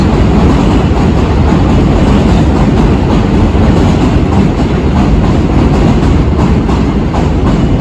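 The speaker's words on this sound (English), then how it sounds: "We'll wait for the 6 train to pass." A New York City 6 subway train rolls past, a loud continuous rumble and rattle holding steady and close the whole time, with no voices over it.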